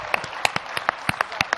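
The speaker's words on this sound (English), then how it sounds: "Ladies and gentlemen, another round of applause for my chorus" A small audience gives scattered claps for a children's chorus at a Military Child Education Coalition panel event. There are about ten sharp, separate claps with uneven spacing, heard close and moderately loud.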